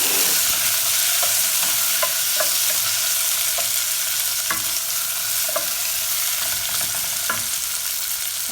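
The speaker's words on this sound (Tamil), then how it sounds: "நாங்கள் இந்த நேரத்தில் இப்போ தக்காளி பழத்தை போடுவோம்." Tomatoes and onions frying together in a pan give a steady, close sizzle, broken by occasional light clicks of stirring, with no talking.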